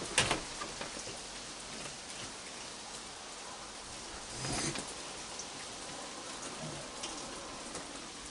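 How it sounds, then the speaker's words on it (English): Rain pours outside during the rainy season in Malaysia, a dense, even hiss of drops on surfaces, with a brief louder splash or gust midway. "It's raining out again."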